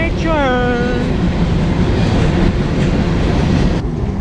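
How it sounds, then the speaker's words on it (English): A passing train rumbles close by in a loud, continuous roar with rising and falling tonal squeals at the start, steady rail noise throughout and no one talking over it. "Train."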